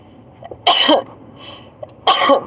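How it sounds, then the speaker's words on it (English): Two sharp, explosive sneezes about a second and a half apart, loud and close, with quiet breathing between them. "I'm about to sneeze."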